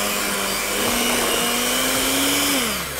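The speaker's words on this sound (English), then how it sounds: "And just whisk that in." Maple syrup is whisked into a smooth, creamy frosting with a loud, steady whirring drone whose pitch dips near the end. No talk is heard.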